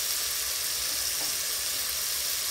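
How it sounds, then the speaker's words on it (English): A kilogram of frozen minced beef goes into a hot pan with sealed meat and spits out a constant, fairly quiet hiss of frying, with no one talking. "we're going to add 1 kilogram bag of minced beef direct to the pan from frozen"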